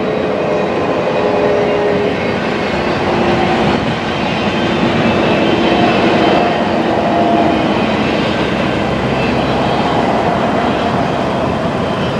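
A loud, continuous rumble of a Union Pacific westbound freight train climbing the grade up Sherman Hill past nearby, with a steady grinding roar and faint squealing tones throughout, no voices.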